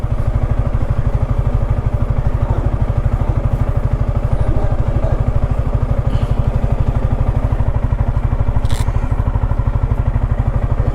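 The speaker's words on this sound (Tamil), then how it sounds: "ஒரு 5 மினிட்ஸ் வண்டி வந்து ஓடட்டுங்க." A motorcycle engine runs steadily for several seconds, a loud, close, even pulsing throb with some rattle and no talking, recorded on a solo ride near Chavakkadu beach in Kerala.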